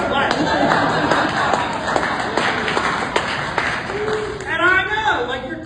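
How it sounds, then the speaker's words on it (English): An audience applauds during a memorial speech, with scattered, light clapping close by mixed under a speaking voice. "you're clapping"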